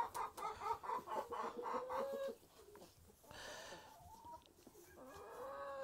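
Rhode Island mini chickens cluck repeatedly inside their coop, which has nest boxes for laying. The calls are close and lively, falling into short bursts and murmurs with no talking.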